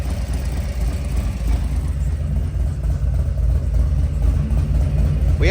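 A big motorcycle engine runs close by, a deep steady idle with low throbbing pulses and a slight rise near the end, no voices over it.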